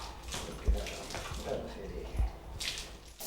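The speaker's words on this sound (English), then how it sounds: "Now we're going to try and hose her off" Water from a hose splashing over a young horse being washed down, a soft steady spray with a few heavier splashes and thumps, fairly close, with low voices faintly underneath.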